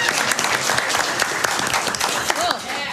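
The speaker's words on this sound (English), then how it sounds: "A round of applause for James." A crowd at a live tabletop dungeon role-playing show applauds James, the lighting operator, with dense, steady clapping filling the room for a few seconds, a few voices mixed in.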